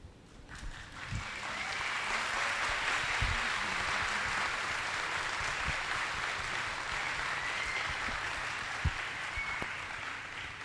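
Audience at a literary festival talk applauding in a sustained, dense round of clapping that swells early and holds steady to the end, with a few sharper individual claps standing out.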